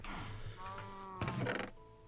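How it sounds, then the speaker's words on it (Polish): Cow mooing in Minecraft, a low drawn-out harmonic moo of about two seconds over quiet game background sound. "słyszysz co krowa krzyczy?"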